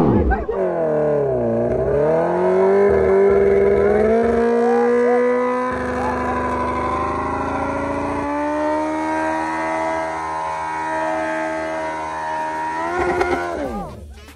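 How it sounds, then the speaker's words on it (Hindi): A superbike doing a burnout at a wedding gathering, engine held at high, sustained revs for several seconds with shifting pitch, loud and close, with people shouting over it. "कितना खतरनाक बर्नआउट था यार"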